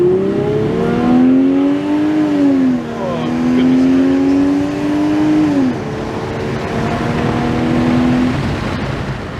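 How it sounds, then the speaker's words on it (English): A Toyota Altezza engine revs hard and climbs in pitch through several gear changes, each shift dropping the tone before it rises again, loud and close. "Toby went next, attempting to prove the super engine in his Alteza was as mighty as he claimed."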